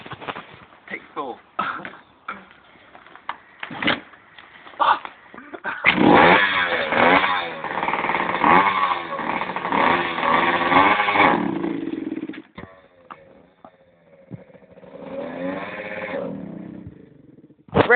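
Motocross bike engine revving outdoors, a raspy buzzing roar that surges loudly for several seconds and then falls back, with short idle blips before and after. People talk at intervals alongside it.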